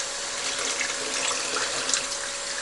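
Running tap water splashes steadily into a sink during rinsing, a continuous close hiss and patter with small fluctuations throughout and no voices.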